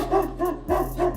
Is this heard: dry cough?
no